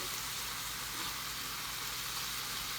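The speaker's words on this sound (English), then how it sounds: "I just want to give them a really good stir." Cajun-seasoned shrimp sizzle and crackle steadily in a hot pan while being stirred, a close, continuous bright frying hiss with no talking.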